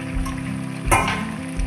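Pre-fried potatoes go into a simmering buffalo meat curry, giving a short, close sizzle that swells briefly before settling back into a steady fry.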